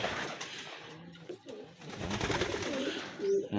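Racing pigeons at a loading site before release in a pigeon race, with soft intermittent coos and low murmurs among broadband ambient noise, a faint voice in the background.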